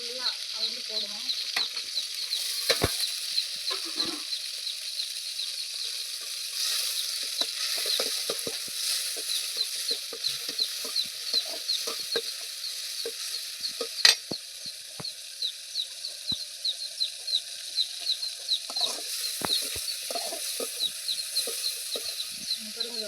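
Crushed garlic and onion frying in a pan, a continuous close sizzle with frequent sharp spoon taps and scrapes against the pan at a busy, uneven rhythm; a rooster faintly crows in the background.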